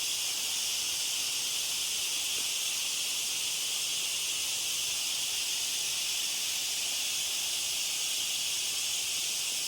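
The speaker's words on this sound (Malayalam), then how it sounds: "ഈ കാട്ടിലെ ചീവീടിൻ്റെ ശബ്ദം" Cicadas in the Agasthyarkoodam forest near Trivandrum drone in one loud, unbroken, high-pitched buzz that fills the whole stretch without pause or other sounds.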